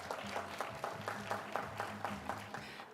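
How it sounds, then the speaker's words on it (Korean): An audience at an AI conference claps to welcome panelists onto the stage, a fairly faint, rhythmic patter of hands with steady tonal hum beneath it, lasting a few seconds. "큰 박수로 맞아주세요."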